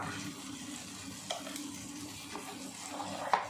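Whole spices (cinnamon, kalpasi, cloves), mint and two dried red chillies sauté in melted butter, a soft, low sizzle under light stirring scrapes, with a sharper clink near the end.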